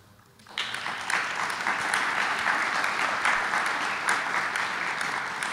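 Applause breaks out at a Metropolitan Beaches Commission meeting: after a quiet start, a room of people begins clapping abruptly and keeps up a dense, even round of clapping to the end.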